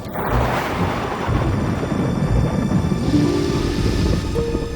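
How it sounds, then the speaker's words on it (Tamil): Low rumbling thunder of a severe storm at sea rolls through a dense hiss of heavy rain, in an animated children's story, sustained and loud throughout, with no talking. "மிக கடுமையான புயலாக இருக்கிறது."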